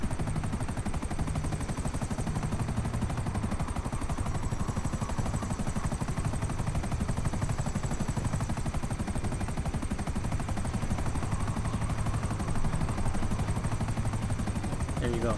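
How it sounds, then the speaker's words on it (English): Buzzard attack helicopters in the GTA 5 video game drone continuously with rapid bursts of gunfire mixed in, a dense, loud, unbroken wash of rotor noise and shooting. "Now those two helicopters are behind me, they're buzzards too"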